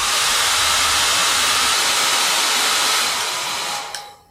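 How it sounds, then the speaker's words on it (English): A hairdryer drying gel applied to the skin blows a loud, steady hissing roar for about four seconds, then switches off and winds down at the end. "So I take a hairdryer and dry it."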